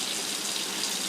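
Tap water runs steadily to rinse a plate, a close, continuous splashing hiss with no pauses.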